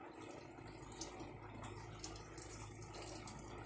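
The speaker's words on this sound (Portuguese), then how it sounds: "ela mesmo vai encher a água." A Mueller Energy 8 kg automatic washing machine fills with water, a steady faint rushing and splashing stream running continuously with no voices.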